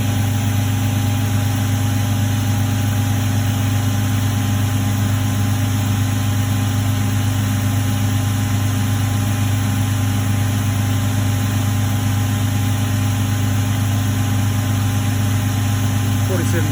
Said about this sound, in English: I'll just get this motor speed down